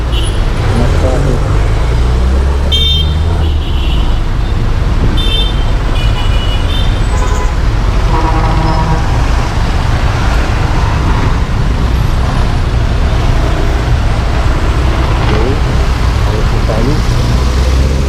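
Road traffic on a congested street near LTO Novaliches: a constant loud roadway roar with engines and air brakes, a few short car horn toots early on, and talking heard over it.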